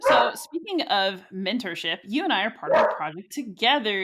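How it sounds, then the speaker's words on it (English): A dog barks several times in the background, sharp yips and woofs mixed in under someone speaking close to the microphone on a podcast. "that's my dog"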